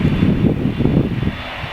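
A small jet with engines mounted at the rear of the fuselage roars steadily during takeoff, a loud broadband rumble that holds throughout with some wind buffeting.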